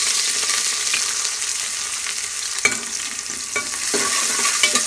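Chopped onions frying in half a cup of hot oil for a chicken wings pulao, a steady close crackling sizzle with scattered pops and stirring scrapes, no voices over it.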